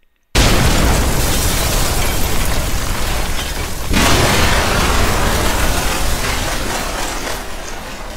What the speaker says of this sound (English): followed by a much larger explosion